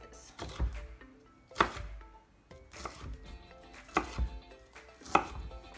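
A knife chops pepper slices into smaller pieces on a cutting board for a breakfast burrito, giving five or six sharp, close knocks at an uneven pace over faint background noise.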